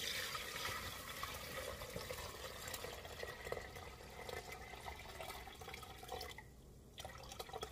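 Liquid from a horsetail, garlic peel and onion peel mixture strained through a sieve, a steady close trickle and splash of water running for several seconds with faint dripping, no voices.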